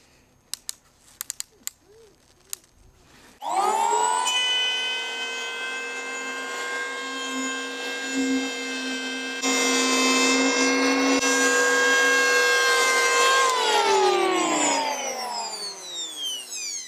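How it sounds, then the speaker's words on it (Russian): A Bosch GHO 6500 electric planer spins up with a few clicks beforehand, then whines loudly and steadily as it planes a step off a wooden beam, rising in pitch under load before winding down near the end. "появилась вот такая вот ступень, которую мы сейчас и попробуем убрать с помощью этого рубанка"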